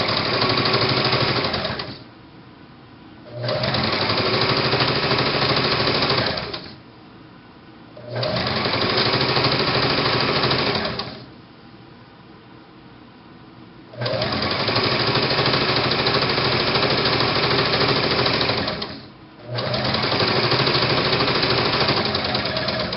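A sewing machine stitches fabric for a shirred smock top, back stitching and then running down the seam, in five loud steady bursts of rapid needle clatter separated by short pauses.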